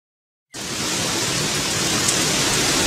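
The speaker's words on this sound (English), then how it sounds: "It's raining cats and dogs again." Heavy rain pours down steadily, a dense, even hiss that starts abruptly after half a second of silence and holds at a constant loud level with no voices.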